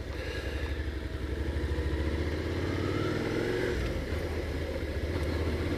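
A Suzuki SV650 V-twin motorcycle rolling along on the road, its steady engine drone close and continuous with a slight change in pitch partway, the rider not speaking.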